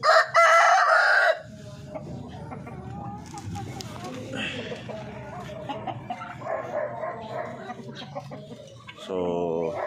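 Darag native chickens at a breeder's pen: a loud rooster crow opens, followed by scattered clucking, then another burst of calling near the end. Someone talks throughout in the background.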